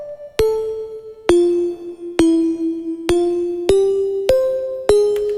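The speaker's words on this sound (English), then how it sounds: "So these are like wind chime sounds" A Serum synthesizer noise oscillator plays a wind chime sound as seven bright, ringing metallic strikes about a second apart, each one loud with a sharp attack and a shimmering decay, with no voices.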